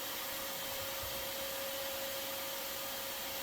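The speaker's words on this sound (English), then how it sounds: "while I'm vacuuming up everybody out of the space." An upright vacuum sucks yellow jackets out of a large nest in a crawlspace, giving a loud, steady whirring roar with a constant whine that runs unbroken from start to end, with no voices.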